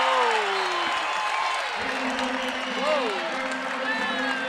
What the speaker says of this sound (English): Gorecki really being hassled by the crowd, and it makes her miss the first one